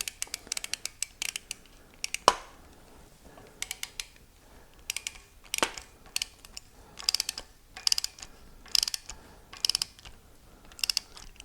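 A ratchet wrench clicks in short intermittent bursts as a taped pipe plug is tightened into an Olds 455 engine block, with sharp metallic ticks and a couple of louder clanks, close by and without talking.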